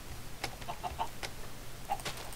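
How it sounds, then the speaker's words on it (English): A chicken in the Minecraft video game clucks faintly several times over a soft background hiss, the short clucks spaced irregularly with no talking. "Hi chicken, will you be my friend?"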